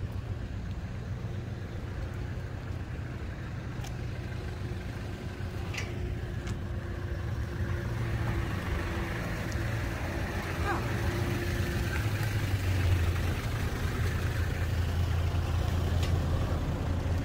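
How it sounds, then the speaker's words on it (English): A low, steady engine rumble from large vehicles idling or running nearby in a remote outback spot, a continuous deep drone that swells slightly toward the end, with faint voices now and then. "Mostly big cars near."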